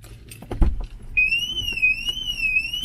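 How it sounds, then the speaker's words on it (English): A car's alarm sounds inside a car wash, a steady high electronic tone that wavers slowly up and down, starting partway through after some low rumbling and a few clunks. "I've never heard the alarm on my car."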